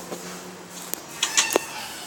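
A cat in Minecraft gives a few short, fairly faint meows near the end over a quiet background.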